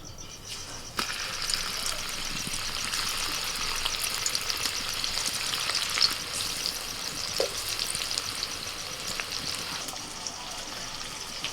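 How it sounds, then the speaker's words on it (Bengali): Pea kebabs frying in a small amount of hot white oil make a steady, close sizzle that runs the whole time, with a few faint clicks and scrapes and no voices. "তেল গরম হয়ে গেছে এবার আমি ভেজে নেব"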